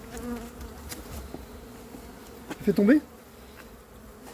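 A swarm of bees buzzes steadily while being gathered during a swarm collection, the insect drone continuous and close under brief French speech, with a louder burst of buzzing near the end.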